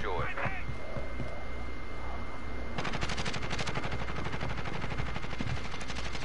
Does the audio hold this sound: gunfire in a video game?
yes